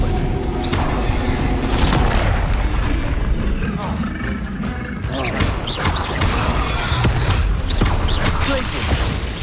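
Loud spell blasts and crashing impacts in the Hogwarts Legacy video game, a string of booming bursts over continuous dense game music and effects, with character voice lines mixed in.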